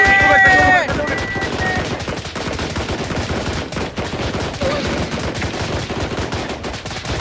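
Rapid bursts of gunfire in the video game Blackhawk Rescue Mission 5 crackle through dense action, with repeated shots layered over a busy background and a brief tonal sound at the start.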